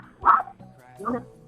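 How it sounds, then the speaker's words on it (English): A dog in a radio studio gives two short barks about a second apart, close but not loud, over a quiet background hum. "No, that's my dog."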